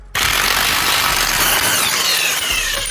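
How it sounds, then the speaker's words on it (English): A heavy power drill loosening a bolt on a Ford Focus ST starts abruptly and runs loud and close for a few seconds, a harsh buzzing, rattling whir without a break. "This is hard to hold a phone with this heavy drill"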